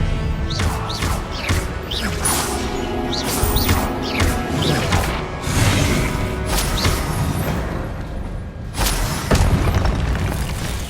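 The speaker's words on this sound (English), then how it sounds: "Confringo! Expelliarmus!" Spell explosions in the Hogwarts Legacy video game, a rapid run of loud booming blasts and crashes over a busy background of combat effects, with bursts coming every second or so.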